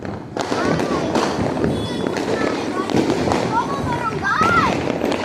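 A spinning ground firecracker crackles and hisses continuously during Diwali, with scattered pops, a dense, busy burst of sparks close by, a few high whistling streaks and voices faintly underneath.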